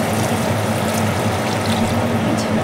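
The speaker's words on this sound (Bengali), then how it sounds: "জাস্ট এটুকুই জল দেবো। দেওয়ার সাথে সাথেই ফুটে গেছে।" Water from a rinsed spice bowl poured into a simmering curry masala, a close, steady pouring and bubbling wash that fills the short moment without pause.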